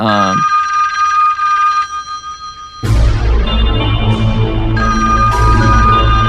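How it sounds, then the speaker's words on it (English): An unplugged telephone rings in a scene from the horror film A Nightmare on Elm Street, loud bright electronic trills that pause, then resume in rapid repeating bursts over a low rumbling score. "The phone has been unplugged. Yeah, it's been unplugged. It's ringing."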